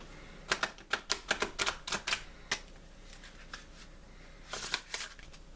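Tarot cards are shuffled and drawn in quick bursts of crisp, close snapping and riffling, several clustered flicks followed by a pause and a final flurry, with no one speaking.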